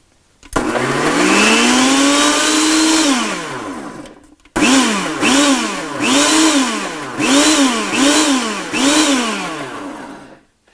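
Blender pulsing garlic, red pepper flakes and spices for a cooked homemade pizza sauce: loud, close motor whirring up in a long first burst, then a quick series of about six short rising-and-falling pulses.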